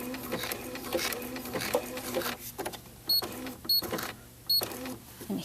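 Sewing machine stitching an applique curve, its motor running in short bursts with brief pauses as the needle stops and pivots, fairly close and moderately loud over a steady low hum.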